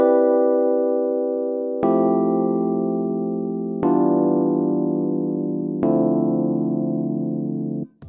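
Four sustained four-note chords on a GarageBand software instrument ring out one after another, each struck cleanly and held for about two seconds before the next, with no voices.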